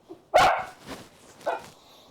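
A dog barks loudly once, then gives a softer bark and a short yip a second later, close by in an indoor home setting.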